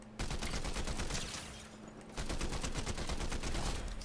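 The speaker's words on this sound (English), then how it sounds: "Oh, he's shooting at us." Rapid automatic gunfire in Fortnite crackles in dense, fast bursts, with a brief easing in the middle before a second heavy stream of shots.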